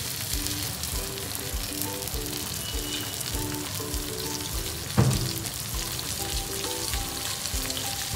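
Bangda mackerel frying in oil in a pan, a dense, even sizzle and crackle with one sharp clatter midway, no voices.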